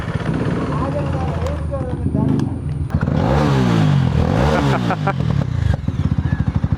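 A KTM Duke 390 motorcycle, an older BS3 version, runs loud and close on an off-road trail, its engine rising and falling through several revs. Throttle blips come in a rapid pulsing run near the end, with a voice speaking over it.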